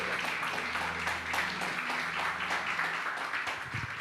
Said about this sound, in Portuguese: Eu queria que você recebesse com uma salva de palmas o nosso bispo.